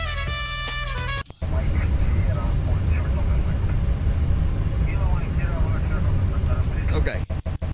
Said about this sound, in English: So this is a girl flying in a Boeing 737.